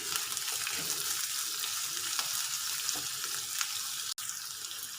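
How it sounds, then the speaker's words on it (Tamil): Onions sautéing in a pan for urad dal chutney give a steady, close sizzle and crackle, with occasional faint stirring scrapes and no talk. "வெங்காயம் நல்லா வதங்கிடுச்சு."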